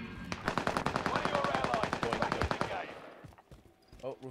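Rapid automatic gunfire in a video game rattles out in a long, steady burst that cuts off, followed by a couple of faint distant shots.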